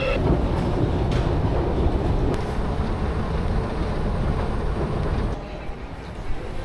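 Steady rumbling ride aboard a metro train, with a dense low roar and rattling rail-car noise running continuously, loud and close, easing slightly near the end; no voices.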